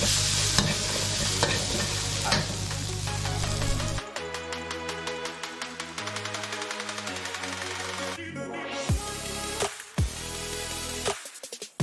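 Pork and pork spine bones are stir-fried in a pot with a loud, close sizzle and frequent clattering, scraping strokes of the utensil, the rhythm growing choppier toward the end.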